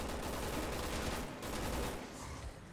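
Dense gunfire in Resident Evil 6, a steady wash of rapid shots and bursts filling the whole stretch at close, loud level with no talking.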